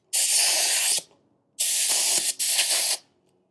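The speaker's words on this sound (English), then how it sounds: "You can hear the air kind of coming through there to fill up." Pressurized air from a portable four-tire inflation system hisses loudly into a tire in three steady bursts separated by short silences.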